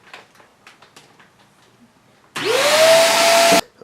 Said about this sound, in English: I was able to get most of it off by using the vacuum as well as using the brush